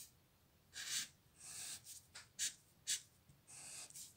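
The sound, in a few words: marker writing letters on paper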